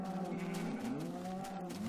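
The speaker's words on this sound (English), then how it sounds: "Be quiet, cows. You're dead soon." Cows mooing in the Minecraft video game on Xbox 360, low drawn-out lowing calls overlapping one another for the whole moment, loud and close with no talk.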